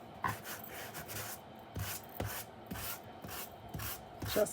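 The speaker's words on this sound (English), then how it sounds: "I'm going to take my sanding block" Rhythmic back-and-forth rasping of a sanding block dragged lightly across an embossed card, steady strokes up close with no voices.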